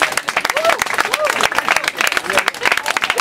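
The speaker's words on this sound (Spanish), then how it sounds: "Un aplauso para los dos" Crowd clapping and cheering at a Cold Mind freestyle rap battle semifinal, a busy burst of applause with shouting voices mixed in throughout.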